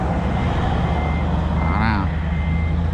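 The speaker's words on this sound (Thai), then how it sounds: "คันนี้ไม่มีกล้องหลังนะครับ ถอยแย่กันแบบสดๆ เลยดูดิว่าจะเข้าไหม" Steady electronic reversing beeps from a Hino 22-wheel trailer truck loaded with rock, layered over a low idling diesel rumble and background talk.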